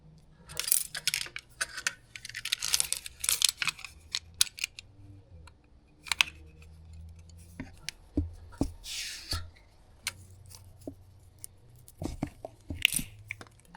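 Knife or cutters slicing back the outer jacket of electrical cable for a three-phase home power setup, heard as scattered close snips, scrapes and crunchy cuts in irregular bursts with handling clatter between, no voices.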